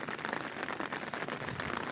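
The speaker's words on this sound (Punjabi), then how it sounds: "ਬਾਰਿਸ਼ ਕਾਫੀ ਹੋਣ ਡਈ ਆ ਹੁਣ ਦੀ" Steady rain hissing and pattering on a surface, continuous and fairly close, with no voices.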